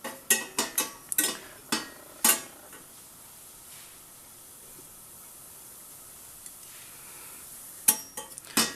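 A spoon stirs and lightly toasts a mixture in a pan while making a chicken cassolette, with quick close scraping taps clustered at the start and end and a soft, quiet sizzle in between.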